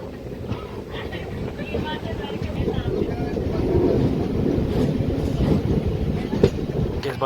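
Local train at Velankanni railway station, a steady broadband rumble that builds gradually and rolls on with faint rattling and wind buffeting, a brief clank near the end.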